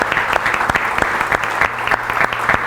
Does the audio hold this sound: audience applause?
yes